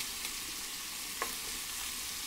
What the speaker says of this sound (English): I'm trying to sear them, not cook them.